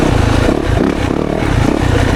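A brand-new 2024 Yamaha YZ 450FX dirt bike ridden through the woods, its engine roaring loud and close with continuous revving, mixed with clattering and scraping from the trail.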